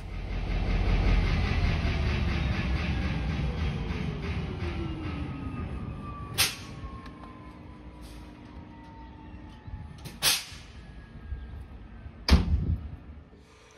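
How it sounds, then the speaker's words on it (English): An MBTA locomotive powers off in a layover yard, its engine drone winding down in falling tones, followed by several sharp hissing air releases and clanks. "the engineer powers locomotive 125 off."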